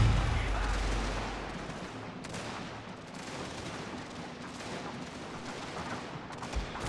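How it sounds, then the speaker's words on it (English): Canister shot artillery fire in a video game battle: a dense, continuous rumble of volleys and crackling musketry-like bursts, mid-distance and steady throughout, with a heavier thump at the start. "We'll fire the canister shot into that."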